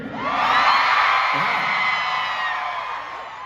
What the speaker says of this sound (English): So if it's your first time, I want you to scream when I count to 3, okay?